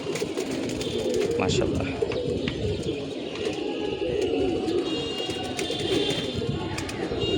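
Pigeons coo steadily as they settle back into their cages on a rainy day, a soft, continuous warble close by with occasional chirps, while a person speaks briefly over it.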